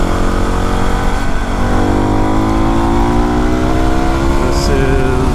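A Yamaha WR250R motorcycle climbs Bear Creek Road, its engine droning loud and close with pitch gradually rising as it accelerates steadily, wind rumbling underneath throughout.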